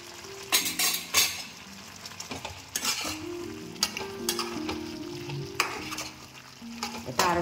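Chopped banana stem (thor) sizzling in a pan after ghee is added, with a spoon stirring and scraping in bursts, occasional metallic clinks against the pan over a steady frying hiss.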